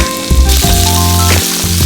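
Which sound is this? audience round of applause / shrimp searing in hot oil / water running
shrimp searing in hot oil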